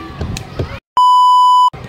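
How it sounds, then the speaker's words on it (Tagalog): A single steady electronic beep, loud and lasting under a second, falls in a short pause between stretches of talking, with speech resuming right after it. "Beep, beep."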